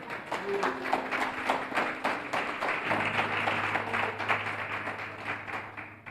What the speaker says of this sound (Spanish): Dale un aplauso al que vive y reina.